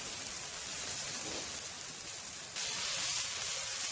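Food sizzles in a cast iron pan on a grill, a soft, steady hiss that grows slightly louder partway through, heard alone without talk.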